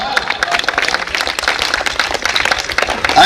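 Audience applause at a Hindi comedy poetry show, a dense wash of many hands clapping at steady volume throughout, loud and close with crowd noise blended in.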